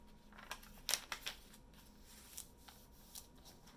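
A sheet of photocopy paper being folded in half for a pop-up page craft: quiet crinkling and a few sharp creasing rustles close by, clustered near the start, with no talk.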